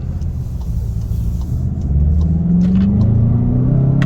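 A 2019 VW GLI's turbocharged engine builds from a steady low rumble into a louder, rising drone as the car accelerates, heard close from inside the cabin with no talk.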